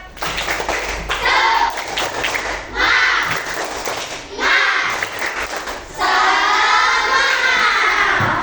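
A school class performs a rhythmic spirit clap, bursts of loud group clapping mixed with children shouting in unison, several rounds separated by short pauses, close and energetic.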